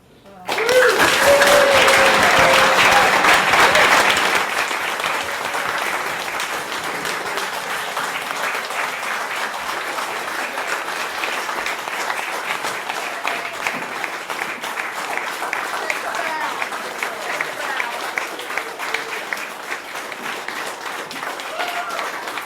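A seated audience applauds the presenters at a talk on sacred springs, a loud burst of clapping that settles into steady, sustained applause lasting over twenty seconds, with voices faintly beneath.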